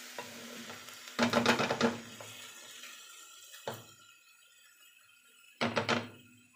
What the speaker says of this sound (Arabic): هسيبها بقى كده تتشوح مع بعض كده.